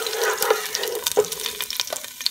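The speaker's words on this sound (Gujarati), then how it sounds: "તેલ ગરમ થાય છે એટલે એની અંદર હું આપણું સિનેમન નાખી દઈશ" Cinnamon dropped into hot oil for a kofta kebab curry sizzles steadily with a few sharp stirring clicks and scrapes, close and moderately loud, with no talking.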